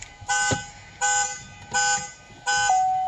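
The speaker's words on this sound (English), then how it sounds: "No, I'm not going to drive home with the car alarm going off." A car alarm blares in repeated electronic honks, four long bursts with short pauses between, loud and nearby.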